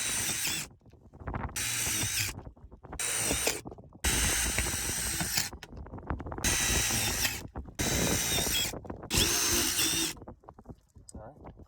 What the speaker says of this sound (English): drill them into the floor.